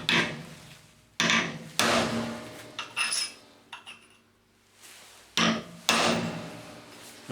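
A hammer strikes a steel centre punch to mark drilling holes on a metal chain securing point, giving several sharp metallic smacks at irregular intervals, close and ringing briefly, with quieter clinks and handling in between.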